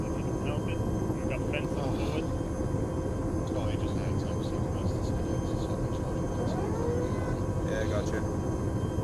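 A helicopter in a military video game flies low, its steady, loud rotor and engine drone filling the whole stretch while people talk over it on radio-style chatter.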